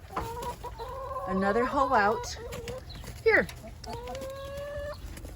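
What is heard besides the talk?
chickens clucking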